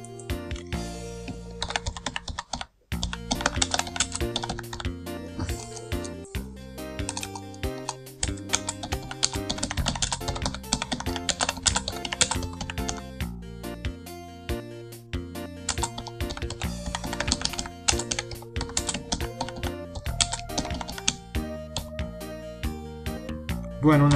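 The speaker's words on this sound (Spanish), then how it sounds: "habéis de escuchar una de teclado que debe estar entrando por el micrófono" Rapid clicking on a computer keyboard picked up by a nearby microphone, dense continuous keystrokes with brief pauses, loud and close throughout.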